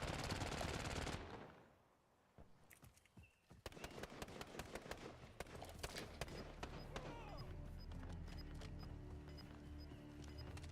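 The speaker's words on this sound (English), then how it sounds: "hear me shooting somebody over here" Gunfire in the video game Call of Duty Warzone: after a loud opening burst and a brief quiet gap, a rapid series of sharp shots rings out close by, followed by a dense run of cracking reports over a low background.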